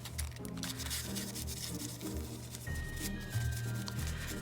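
A paintbrush scrubbing paint onto a winter wreath made with an ice skate, giving a soft, continuous close brushing and rubbing texture that sounds quiet and steady.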